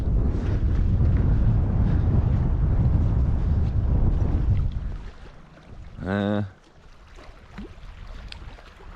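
Heavy wind over Lower Saranac Lake in the Adirondacks roars and buffets the microphone for several seconds, then eases off, with a brief low hum and faint gusts continuing afterward.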